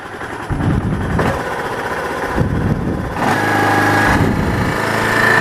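A Kawasaki KLF300 ATV engine runs steadily near at hand after finally starting, its loud uneven idle holding a low rumble that shifts in pitch a few times as the throttle changes.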